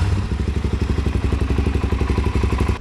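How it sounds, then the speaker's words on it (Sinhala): A Suzuki DRZ-400SM motorcycle engine idles steadily close by, giving a loud, even rhythmic thumping with a clattery, crackling edge and no voices. "බයික් එක CT100 එකක් වගේ එන්ජින් එක තියෙන්නේ"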